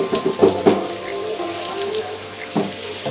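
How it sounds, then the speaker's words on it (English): Rain falls steadily during a wet day in Nelamangala, a continuous hiss of drops on surfaces with a few louder knocks and taps near the start and end. "It's been raining since morning"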